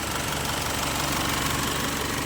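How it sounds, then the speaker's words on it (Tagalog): Isuzu Elf truck with a 4HL1 diesel engine idling up close, a steady loud rattling chug with even knocking pulses and no pauses. "Ayan, matapang na yung engine."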